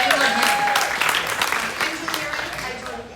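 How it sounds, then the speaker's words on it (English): Brief applause from the room at a KW Southlake real estate sales meeting, welcoming new members with a burst of lively clapping that gradually thins out over a few seconds. "give them a clap"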